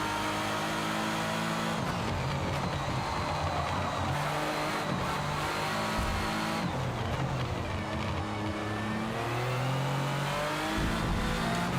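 Race cars in a racing video game roar past in a double overtake, engines revving and shifting pitch continuously, with a brief tire squeal, loud and steady throughout.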